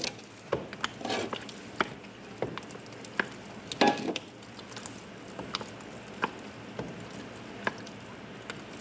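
Food being stirred in a sizzling frying pan, with a soft steady sizzle and scattered scraping and clinking taps of the utensil against the pan, fairly faint and with no talking.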